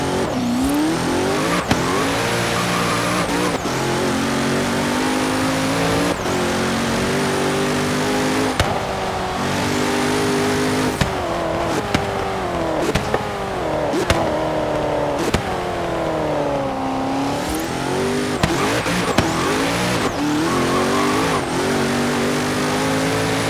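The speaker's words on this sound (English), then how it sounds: "in Forza Horizon 4, they have dulled it down a ton. It doesn't sound as angry as it used to, and overall, just more quiet." A Zenvo ST1 supercar in the racing game Forza Horizon 4 revs hard through repeated gear changes. The engine rises and falls continuously, with brief shift breaks and tire squeals, and no talking.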